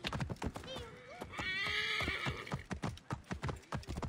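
A horse in Assassin's Creed Origins clip-clops along at a steady pace with a clear neigh and whinny in the middle, near and prominent, and someone talking over parts of it.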